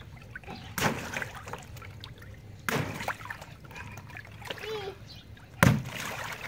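Water splashes in a swimming pool in three sharp bursts spaced a couple of seconds apart, with a voice and soft background activity between them.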